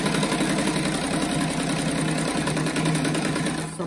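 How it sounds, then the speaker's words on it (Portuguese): Electric sewing machine stitching fabric scraps for a patchwork rug, a loud, steady high-speed whirring hum with rapid needle clatter running continuously up close. "Tem que ver pra costurar bem em cima do tecido pra não ficar sem costura ali"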